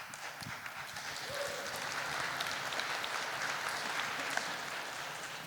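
An audience at a conference closing panel breaks into sustained applause, a dense even patter of many clapping hands that holds at a steady level for several seconds.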